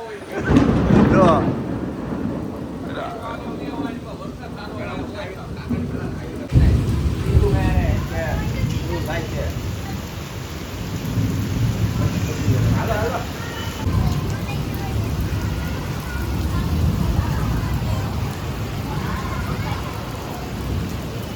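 Monsoon rain pours in Surat with rolling thunder rumbling through the downpour, heavy and close, while people talk over the storm noise.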